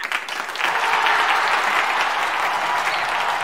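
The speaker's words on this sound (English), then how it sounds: "I hope you have you've got a big applause." An audience claps to welcome a speaker at a live tech event, applause swelling after a softer start and continuing steadily at full strength.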